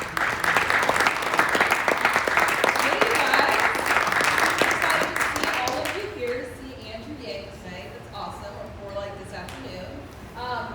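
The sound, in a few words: audience applause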